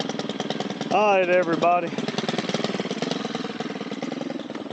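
A two-stroke gasoline weed eater engine idles steadily close by, a constant buzzing drone throughout, with a person briefly speaking over it near the start.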